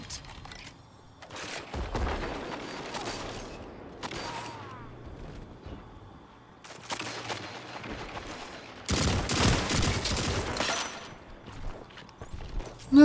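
A Wastelander M5 shotgun fires repeatedly during a Destiny 2 match: sharp, punchy blasts in irregular bursts, with a heavier cluster of shots toward the end and scattered in-game clatter between them.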